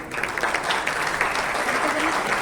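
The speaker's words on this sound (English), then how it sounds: "Can we have a huge round of applause for them?" An audience at the Southern Command Quiz Competition 2024 gives quiz participants a round of applause, with dense, steady clapping throughout and a voice over the start.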